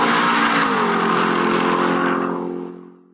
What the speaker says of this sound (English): You hear a high pitch when it's coming towards you, and then once it passes, you hear the pitch drop.